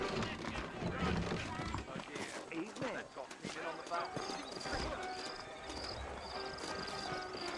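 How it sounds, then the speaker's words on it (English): Saddled horses hoof along in a Wild West video game set in New Ulster, a steady clip-clop running under game music and ambient noise, with voices talking over it throughout. "I got the horses saddled up and ready out front."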